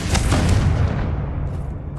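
A Confringo blasting spell explodes in Hogwarts Legacy with a deep, booming blast that rolls into a rumbling tail and fades out.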